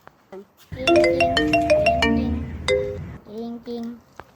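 A telephone ringtone plays a bright repeating melody for a few seconds while a call is being placed, loud and close, with brief speech before and after it.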